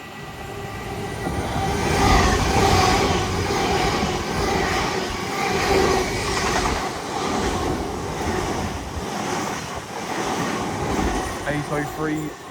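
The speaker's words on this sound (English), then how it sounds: "passing through now is a duo of Hull Train Paragons en route from Hull to" Two Hull Trains Paragon trains passing through Alexandra Palace on the East Coast Main Line, heading from Hull to London King's Cross, making a loud, continuous close-range roar and rumble that runs throughout and eases slightly at the end.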